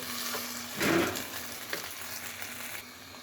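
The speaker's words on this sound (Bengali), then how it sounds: "ভালোভাবে মাংসের সাথে চালগুলো ভেজে নিচ্ছি" Rice frying with chicken pieces in a pot for chicken tehari, a steady low sizzle with soft stirring scrapes, close and quiet, one brief louder stir partway through.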